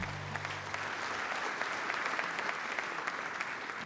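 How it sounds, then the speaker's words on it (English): Finalists for a young farmers and ranchers agriculture award get a round of applause from the ceremony audience, an even, moderately loud wash of many hands clapping throughout. "Please give our finalists a round of applause"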